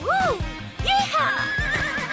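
A horse whinnies loudly and close up in several rising and falling calls, with hoofbeat-like thumps underneath and a voice briefly mixed in.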